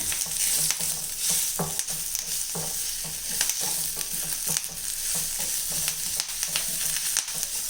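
Drumstick leaves wilting in a hot pan for a dal curry, a continuous close sizzle broken by frequent clicking stirs and scrapes of the spoon against the pan throughout.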